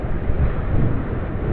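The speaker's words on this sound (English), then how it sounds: "737-800, speeding down runway 25." Virgin Australia Boeing 737-800 accelerating down runway 25 on takeoff, a steady roaring rumble heard from a distance, mixed with wind buffeting on the microphone, no voices.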